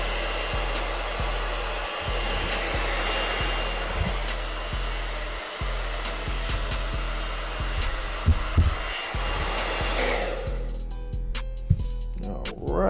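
A heat gun warms a Glock handgun grip to fit new grips, giving a loud, steady blowing roar close by, broken by several brief thumps and clicks, and trailing off near the end.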